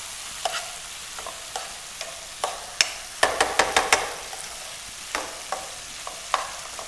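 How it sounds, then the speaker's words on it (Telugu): Grilled chicken pieces are stirred into tomato gravy for chicken tikka masala. A spoon scrapes and clacks against the pan in sharp, irregular strokes, with a quick run of taps midway over a low, soft sizzle. "సో ఇప్పుడు గ్రిల్ అయిన చికెన్ పీసెస్ అన్నీ గ్రేవీలో మిక్స్ చేసాం కదా."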